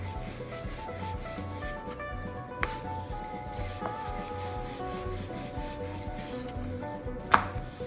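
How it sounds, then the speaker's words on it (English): Floured dough rolled out with a rolling pin for an Indian dish gives a steady soft rubbing and scraping, with a couple of sharp taps, under continuous background music. "Dust some flour and roll it."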